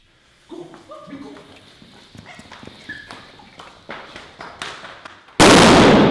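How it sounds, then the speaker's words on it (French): A Bison 2 firecracker goes off against a hand spinner with one sudden loud broadband blast near the end, after scattered clatter, knocks and brief voices. "on a tenté de faire exploser le hand spinner"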